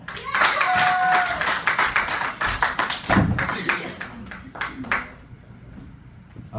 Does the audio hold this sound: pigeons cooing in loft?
no